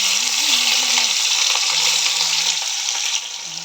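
Small puti fish frying in a pan, a loud continuous sizzle and crackle of hot oil up close, with a faint tonal whine in the background and no voices.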